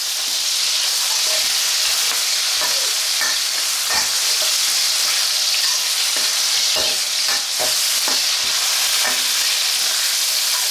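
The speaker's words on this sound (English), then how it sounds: "normal frying." Loud, steady sizzling of food frying in a hot, freshly seasoned wok, with scraping and clacking stirring strokes that keep rising above the continuous hiss.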